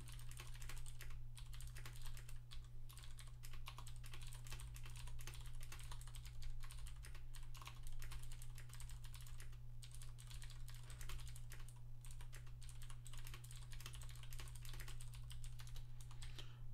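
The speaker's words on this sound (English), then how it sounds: "Oh man, that's a lot of typing I'm doing." Steady computer keyboard typing continues for a long stretch, with quick irregular key clicks under a constant low electrical hum and no voices.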